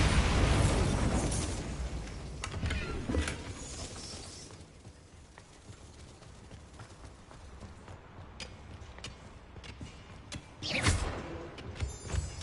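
The Bombarda explosion spell from Hogwarts Legacy bursts loud and close at the start, then decays into a rumbling, crackling tail, with smaller follow-up blasts near the end.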